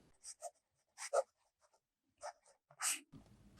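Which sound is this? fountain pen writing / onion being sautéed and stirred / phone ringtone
fountain pen writing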